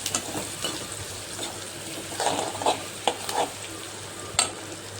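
Onion and tomato frying in oil with garlic, cumin and mustard, a steady soft sizzle with several louder stirring scrapes and bursts spread across the clip, close by and with no voices.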